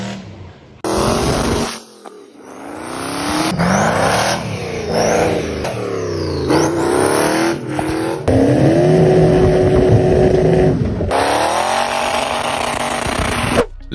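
A big-turbo drift car engine revs hard and repeatedly, pitch sweeping up and down through sharp throttle blips, loud and close, continuing in sustained high-rev bursts with brief drops between.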